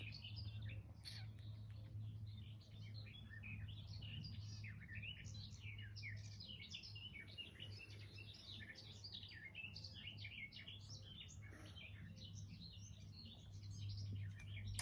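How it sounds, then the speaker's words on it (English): A dense chorus of birds sings outdoors, rapid overlapping chirps and tweets running continuously above a low steady hum, moderately distant and without any voices. "Enjoy the birds."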